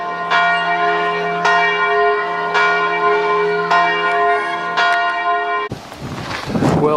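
A church bell rings out in a small German town, several loud resonant strikes with long ringing overtones spaced a second or two apart, ending abruptly as outdoor noise takes over.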